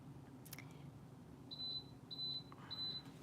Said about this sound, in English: ignore the beeping. That's my breakfast. It's going to beep a couple times.